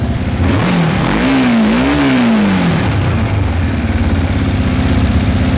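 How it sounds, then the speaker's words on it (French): A carbureted motorcycle engine idles steadily and evenly just after a carburetor synchronization, with a brief rise and fall in pitch early on before settling into a smooth, constant rumble. "Vous écoutez, le moteur est beaucoup plus calme, le moteur est beaucoup plus posé."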